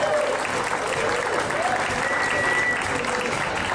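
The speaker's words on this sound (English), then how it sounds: "Let's give a big old round of applause for Macy" Audience applause at a talent show semifinal as a ukulele act walks down to the stage, steady loud clapping throughout with faint voices mixed in.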